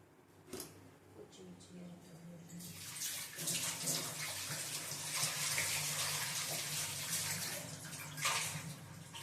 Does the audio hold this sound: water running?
yes